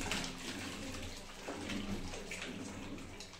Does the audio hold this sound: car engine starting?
no